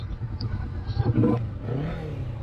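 A 2025 Honda Rebel 1100T motorcycle engine revs up and settles, a deep, throaty exhaust note rising and falling close by over about two seconds.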